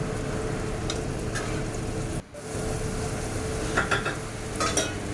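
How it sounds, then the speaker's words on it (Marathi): Spices, onion and tomato paste stirred and fried in oil in a pan, giving a steady close sizzle with scraping spoon strokes throughout and a brief pause partway. "आता हे सर्व मसाले मी मस्तपैकी मिक्स करून घेते आणि तेल सुटेपर्यंत फ्राय करून घेते"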